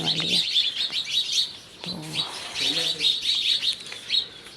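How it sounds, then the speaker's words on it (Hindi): Many small birds chirp and twitter steadily in the evening, a busy, bright chorus of quick tweets, while someone speaks briefly at moments underneath. "ये देखें चिड़ियों की आवाज़ें आना शुरू हो गई हैं"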